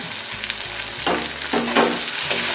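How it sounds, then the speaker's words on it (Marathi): Chopped onion and tomato sizzle steadily in a hot pan with ginger-garlic paste, while a spatula scrapes and stirs in several short strokes, close and continuous without speech. "व्यवस्थित परतून घेते कांदा आणि टोमॅटो व्यवस्थित परतवून घेतला आहे"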